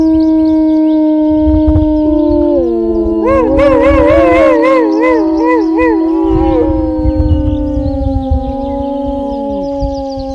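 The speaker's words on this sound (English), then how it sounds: "Wolves howl to communicate with their pack or to scare off other wolves" Several wolves howl together in long, overlapping, wavering notes, one voice rising and trembling over the others, loud and sustained.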